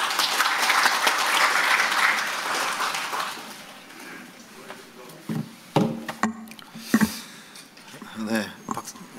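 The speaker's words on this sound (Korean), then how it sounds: "박진수 박사님께 박수 한 번 더 부탁드리겠습니다" Audience applause in a Korean policy forum hall on Saemangeum tidal power, following a presentation; steady clapping fills the first four seconds, then fades as scattered claps and murmured voices remain.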